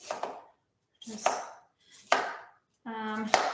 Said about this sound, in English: when you're talking about rough chopping